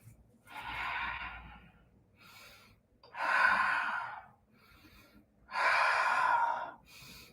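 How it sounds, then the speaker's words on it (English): Deep, slow breaths in a yoga pose, three long airy exhalations separated by quieter inhales, close and clear with no talking. "I'm just going to do a couple breaths right here."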